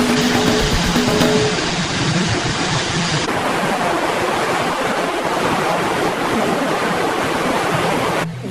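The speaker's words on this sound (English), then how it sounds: "unleashed a torrent of floodwaters across the city, submerging roads, crippling transportation" Floodwaters surge through Beijing streets in a loud, steady rush of churning water, constant and close throughout with no voices.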